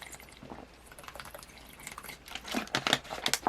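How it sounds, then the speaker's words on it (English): A person sips a drink of water: faint liquid slurps and small drips, quiet at first, then a cluster of closer, louder sipping sounds toward the end. "Oh my god, I had to take a sip of water."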